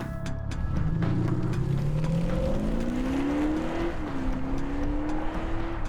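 An Audi SQ5, a twin-turbo 3-litre diesel SUV, accelerates with a rising engine note that climbs through the gears, a brief dip at a shift, then holds a steady strong drone, close and loud.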